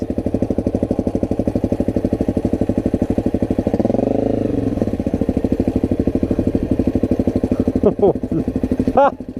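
Small dirt motorcycle, a Honda 250, climbing a steep forest trail, its engine chugging steadily and loud up close, briefly deepening midway, with a short burst of talk near the end.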